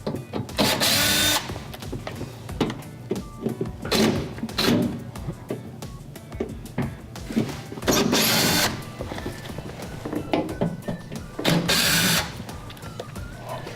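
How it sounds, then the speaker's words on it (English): A power screwdriver backs four T20 screws out of the base of a Viking dishwasher, giving repeated short whirring bursts separated by quieter handling clatter, close and fairly loud. "So we're gonna go ahead and remove the screws."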